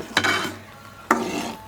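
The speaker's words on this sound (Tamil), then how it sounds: "ரவை போட்டுட்டு நல்லா கொஞ்சம் கிளறி விட்டுறணும்." Spoon stirring rava semolina into boiling water in a pot, two distinct scraping strokes about a second apart, close and moderately loud against a quiet background.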